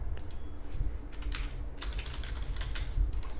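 Clicky bursts of typing on a computer keyboard, close and fairly loud, arriving in uneven clusters of keystrokes with short pauses over a low background hum.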